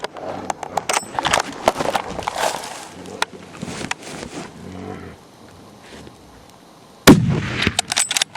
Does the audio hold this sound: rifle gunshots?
yes